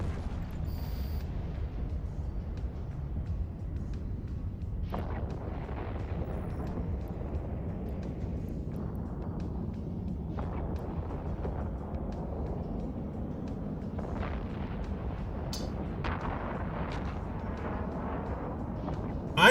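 Ships firing on each other in EVE Online: a continuous low rumble punctuated by several heavy boom-like weapon blasts spread across the stretch, fairly loud, with little talk.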